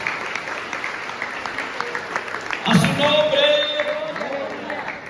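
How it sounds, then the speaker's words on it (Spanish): A church congregation at the Iglesia Congregacional in Tegucigalpita, Omoa, breaks into sustained, swelling applause while a voice speaks over the clapping. "Denle ese aplauso a la gloria de nuestro Dios"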